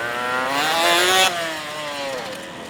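A Honda NSR250R two-stroke motorcycle, repainted from red to black, accelerates out of a tight turn at a gymkhana event, its engine note rising to a loud, close rev before easing off.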